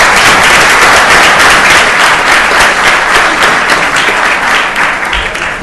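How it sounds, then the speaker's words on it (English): A city council meeting audience gives loud, dense applause that holds steady for several seconds and then begins to thin slightly at the end. "Let's give Emily a big round of applause."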